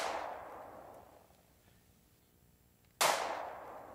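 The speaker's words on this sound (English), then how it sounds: "one of the ways to put an impulse into a sound system, like a room, is to fire a gunshot" Recorded gunshot used as an impulse, with a sharp, loud crack at the start that decays into a long fading room tail, followed a few seconds later by a second abrupt crack with its own ringing decay, no voices.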